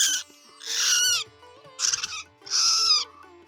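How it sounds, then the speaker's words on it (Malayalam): A small bird gives four loud, harsh chirping calls in separate bursts, close by, with short quiet gaps between them. "സൗണ്ട് കേട്ടോ, ഇതാണ് കിളി."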